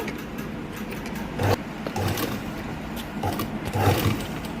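A sewing machine stitches saree cloth into blouse trim, a close rumbling mechanical whir with a steady pulsing rhythm and a few louder surges, heard alone without speech.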